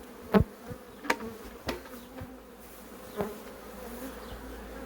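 Honey bees buzzing after being shaken out of a wooden hive box, a continuous close swarm hum broken by a few sharp knocks and taps near the start.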